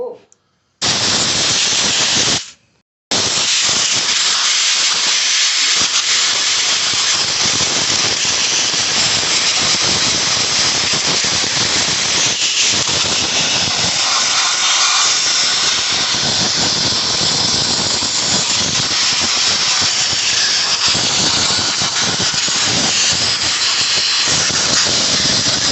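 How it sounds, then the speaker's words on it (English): Compressed air blasting concrete dust out of a Stihl TS400 cut-off saw, a loud, harsh, continuous hissing squeal in long bursts, with a brief pause early on, close and dominant over faint background sounds. "Then I like to blow all the concrete out."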